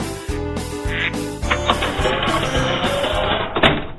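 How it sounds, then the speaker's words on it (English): Several ducks quack in quick, overlapping bursts, loud and close, mixed with a busy clattering background. "after Bob gets the ducks out of his living room"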